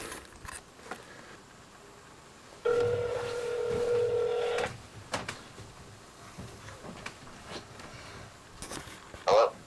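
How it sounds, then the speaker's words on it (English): Telephone dialing to set up a speakerphone call, with a sustained electronic tone lasting a couple of seconds amid scattered clicks and handling knocks, then a brief tone burst at the end. "I'm going to get Nathan on the phone"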